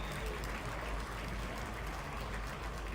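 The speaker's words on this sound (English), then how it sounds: "Please give a round of applause to all of our amazing sponsors for this event who helped us put this on." An audience at a Chezy Champs event applauds its sponsors, a faint, steady patter of clapping heard from a distance with a low background hum.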